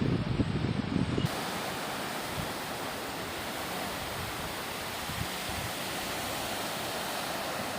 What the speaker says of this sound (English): Giving you all a little glimpse of the first beach